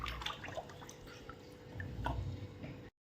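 Sliced potato wafers swirled in a pot of alum water, soft close sloshing and dripping with small splashy bursts for a few seconds, quiet overall.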